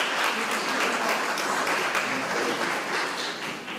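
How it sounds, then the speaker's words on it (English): Steady, dense applause from a crowd at a donor appreciation reception fills the whole stretch, many hands clapping at once without a break, following a jazz combo performance. "please, again, give an applause"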